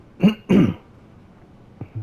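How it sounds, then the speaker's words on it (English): A voice clears its throat close to the microphone in two short, rough bursts, followed by a brief faint vocal sound. "Gotta clear my throat here."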